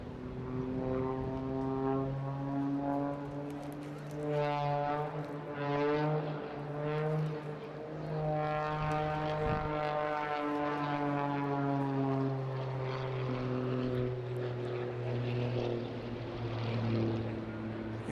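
A propeller aerobatic plane at the Eastbourne International Airshow drones steadily overhead for eighteen seconds, its engine pitch rising and falling through snap rolls and hammerheads, moderately distant and without voices.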